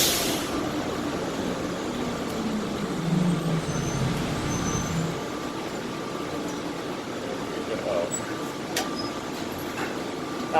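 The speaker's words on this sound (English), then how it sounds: "This train is stopping." Interior of the ATL Skytrain airport train rolling along as it comes to a stop, with a steady moderate rumble and hum and faint announcement-like voice tones early on.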